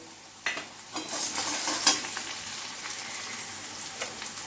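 Small soft puti fish being mixed by hand with mustard paste, salt and turmeric, giving wet squelching and stirring sounds, close and moderately quiet, with no talking.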